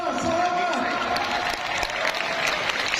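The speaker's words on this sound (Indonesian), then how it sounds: "Tepuk tangan untuk kita semua." A congregation at a charismatic Catholic gathering applauds, with a steady, full wash of clapping over reverberant speech and music from the sound system throughout.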